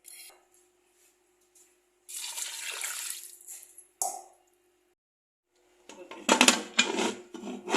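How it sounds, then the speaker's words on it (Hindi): Water poured into a pot of lentils (daal mash) cooking in spices, a broadband splashing pour of about two seconds, then a brief splash and a louder burst of clattering and pouring near the end. "दाना दाना दाल पकानी है तो इसलिए मैं पूरा पूरा पानी डाल रही हूँ डबल"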